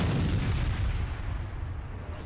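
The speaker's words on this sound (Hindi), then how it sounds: "तभी रेत में दबे माइंस में धमाका होता है" A landmine buried in sand explodes under a tank: a deep, rumbling blast roars with heavy low-end and slowly decays into a dull roll, with no voices.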